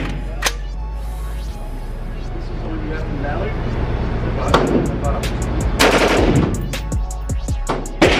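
An AR rifle with a binary trigger fires a run of sharp, loud shots outdoors, paired and in quick bursts, punctuating a steady background rumble while people talk nearby.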